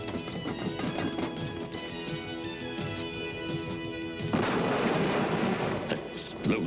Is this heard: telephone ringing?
no